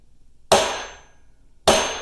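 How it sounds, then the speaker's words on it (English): Two sharp metallic hammer strikes on the U-joint cap of an RZR prop shaft, about a second apart, each loud and close with a ringing decay. "So if you can take your two hammers, place the first hammer on the U-joint cap."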